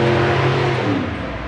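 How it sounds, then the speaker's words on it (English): A loud vehicle rumbles past nearby, its engine drone fading slightly and dropping in pitch over a second and a half. "Loud truck going by."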